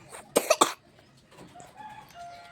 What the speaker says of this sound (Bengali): কাশি হয়েছে প্রচণ্ড,